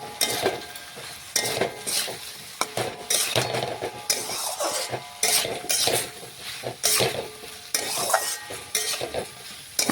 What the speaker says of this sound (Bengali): আবারও নাড়াচাড়া করে সমস্ত কিছু একসাথে মশলার সাথে কিছুক্ষণ রান্না করে নিচ্ছি।